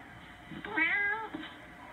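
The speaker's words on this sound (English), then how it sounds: "I'm hungry meows." A cat gives a single drawn-out, rising and falling meow, close and clear against a quiet background, followed by a faint short trailing sound.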